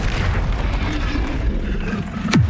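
A Bombarda spell explodes in Hogwarts Legacy, a loud booming burst amid dense, busy game combat noise, with a sharp falling whoosh near the end.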